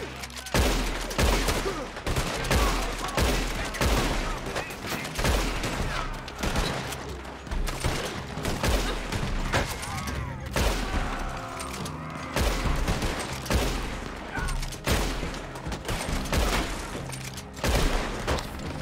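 Red Dead Online firefight with dense, rapid gunfire: shotgun blasts and rifle shots crack one after another almost without pause, loud and close, with booming reports throughout.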